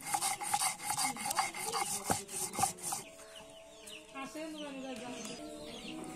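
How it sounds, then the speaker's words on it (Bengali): Garlic, green chilies and salt are ground by hand on a grinding stone in a village kitchen. Rhythmic, close rubbing and scraping strokes fill the first half, then hens cluck and a rooster calls in the background. "কাঁচামরিচ, লবণ এগুলো বেটে নিচ্ছি।"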